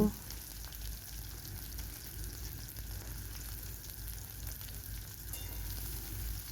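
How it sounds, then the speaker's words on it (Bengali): Onion frying in oil for a bitter gourd (karela) dish, a steady dense sizzle holding at an even level throughout, close and continuous with no talk. "সেটা আমি তেলের মধ্যে দিয়ে বেশ খানিক্ষণ ধরে পেঁয়াজটাকে ভেজে নেব"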